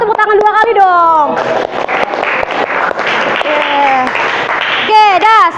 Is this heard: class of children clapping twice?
yes